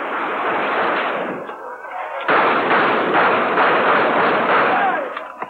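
Gunfire during Jamaican election violence: dense, continuous crackle of shots and bursts, loud and close, with a brief lull before the shooting resumes at full intensity.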